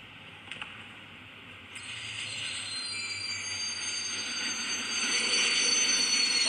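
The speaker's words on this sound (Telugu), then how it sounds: "అదిగోండి మన ట్రైన్ వస్తుంది." A train pulls in within the mobile game Indian Bike Driving 3D, its steady rolling rumble and high hiss swelling gradually louder as it approaches, with no talk over it.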